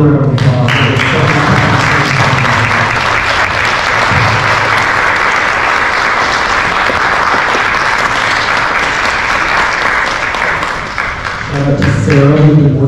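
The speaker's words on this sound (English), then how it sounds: "Let's give them another round of applause." Sustained applause from a theatre audience after a stage performance, a dense wash of clapping that swells for about ten seconds, dips briefly, then fades out as music returns.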